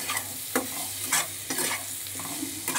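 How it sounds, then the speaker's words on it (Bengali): Potatoes with sugar and spices are stirred in a sizzling frying pan, with a spatula scraping in a regular rhythm about twice a second over a steady close hiss of frying. "এবার আবার একটুখানি নেড়ে চেড়ে নেব আলুটাকে।"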